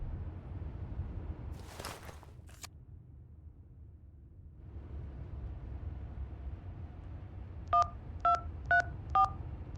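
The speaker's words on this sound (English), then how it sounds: "Dial the number." A telephone number dialed in the video game HitchHiker: four short, clear keypad tones in a steady rhythm, heard over a low rumbling background after a couple of brief clicks.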